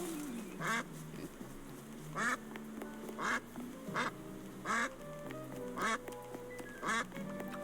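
Cartoon ducks in the video game Duck Detective quack repeatedly, with about eight distinct quacks spaced at a fairly regular pace over a soft game background.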